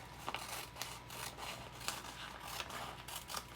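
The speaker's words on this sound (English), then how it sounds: "I want to cut exactly to size" Scissors snip through a yellow tea bag backed with heat and bond fusible web, a series of short, crisp cuts at a steady rhythm, close and fairly quiet, with no talking.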